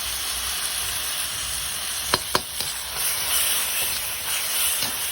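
Tomatoes and aromatics sauté in a pan, a steady close sizzle and hiss broken by a few sharp clicks of a utensil stirring against the metal.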